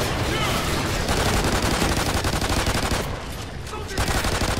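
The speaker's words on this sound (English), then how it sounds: "Practically just hip firing the whole time and hoping you hit something." Steady automatic hip-fire gunfire from Call of Duty: Ghosts Extinction, a dense, continuous rattle of shots with game sounds layered underneath, loud and close throughout.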